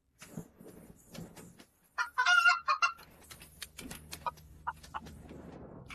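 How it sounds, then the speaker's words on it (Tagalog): A chicken clucking and squawking in short, scattered calls, with a louder, harsher burst in the middle and softer clucks after it, close by against a mostly quiet background. "Manok! Hindi ba't ito yung manok na nanunuka?"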